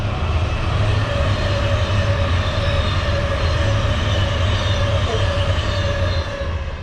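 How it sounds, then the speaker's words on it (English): Trains pass on the West Coast main line beside a moored narrowboat, a loud continuous roar and rumble with a steady tonal hum, heard nearby without talk. "You'll have to excuse the trains"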